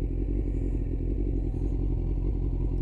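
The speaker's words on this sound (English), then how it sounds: "I'm going to pull in here and do a little walk around to my bike." Engine of a 2000 Kawasaki ZX6R motorcycle running steadily up close, a low continuous rumble with a faint mechanical clatter and no notable revving.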